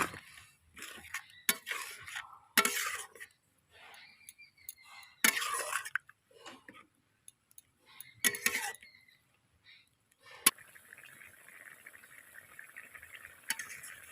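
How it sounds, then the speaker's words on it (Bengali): A spoon stirs salted curry with turmeric in a pot, producing sporadic scraping and clinking bursts of utensil against metal separated by quiet gaps, followed by a soft continuous bubbling simmer near the end. "দিয়ে দিচ্ছি পরিমাণ মতো নুন তাহলে এটাকে একটু নাড়িয়ে"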